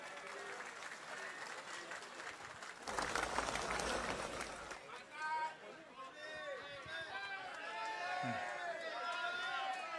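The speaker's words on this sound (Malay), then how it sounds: "Berikan tepukan kepada mereka." An audience at a political event unveiling election candidates claps for them, a burst of applause that swells and fades amid crowd murmur, with a voice speaking over it.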